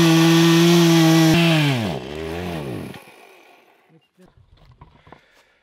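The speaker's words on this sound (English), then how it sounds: "The chainsaw just took a dump" A failing chainsaw whines at high revs while cutting wood, then bogs down and sputters to a stop, leaving faint scattered knocks.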